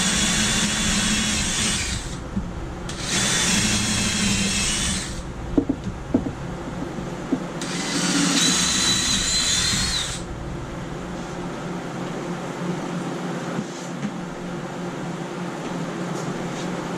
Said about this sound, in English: I'm going to drill 3 new holes